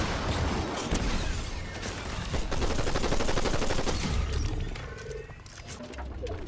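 A mythic weapon in the Fortnite battle royale video game fires in a dense, continuous, roaring barrage that runs loud for several seconds and then eases slightly near the end.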